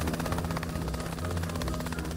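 A helicopter in the video game Millionaire Empire Tycoon, its rotor producing a loud, steady rapid chopping thrum with a low engine drone, close and continuous throughout.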